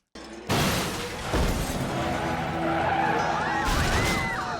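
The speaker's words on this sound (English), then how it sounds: "they both end up crashing their cars at the end" Cartoon cars from Regular Show skid and crash, with an abrupt loud impact leading into sustained tire screeching and rumbling engine noise, rising squeals weaving through the roar, then a second crunch near the end.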